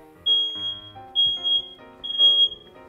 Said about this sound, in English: Let me take care of that alarm real quick.